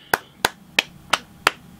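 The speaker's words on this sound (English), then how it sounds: "Let's give an applause" A single person claps six times, close and crisp, at a slow, even pace of roughly one clap every third of a second, with quiet in between.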